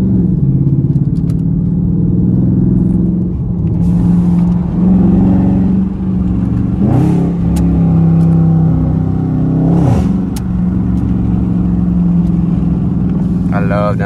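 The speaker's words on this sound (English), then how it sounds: "Downshifting, man" An Infiniti G35's engine rumbles steadily from inside the car, with rises and drops in pitch as it revs through downshifts; someone talks over it at times.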